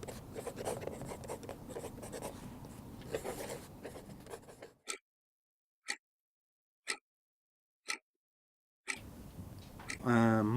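A pen scratches across paper in continuous close strokes for several seconds, then goes quiet apart from a few brief, evenly spaced taps before the scratching resumes.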